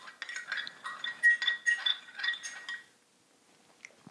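A spoon stirs organic cane sugar into coffee from a Breville Precision Brewer Thermal, making about three seconds of light, quick clinks and tinkles against the cup, then near silence with one faint tap.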